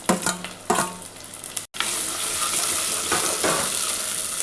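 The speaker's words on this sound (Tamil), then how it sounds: "அதையும் சேர்த்துட்டு நல்லா வதக்கி விடுங்க" Small onions and chopped tomato sauté in a pan for Turkey berry gravy, a loud, close, continuous sizzle broken by stirring clatter. There is no speech.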